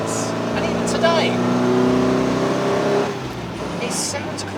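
A 1959 MGA Twin Cam fixed-head coupe sports car drives at speed, its engine note droning steadily and loud throughout, with an accelerating pitch rise midway and a voice talking over it.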